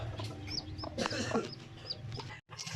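Chickens and young chicks clucking and cheeping in a backyard coop with a brooding hen, a steady chorus of close clucks and high peeps with a brief break near the end.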